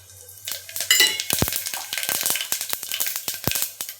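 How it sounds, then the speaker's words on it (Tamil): Mustard seeds with cumin and fennel crackling in hot ghee, sharp irregular pops bursting close and loud over a faint hiss, with a pan rattle near the start. "நெய் காஞ்சிருச்சு இப்போ கடுகு போட்டுக்கலாம் கடுகு நல்லா பொரிஞ்சிருச்சு கொஞ்சமாக சீரகம் சோம்பு சேர்த்துக்கலாம்"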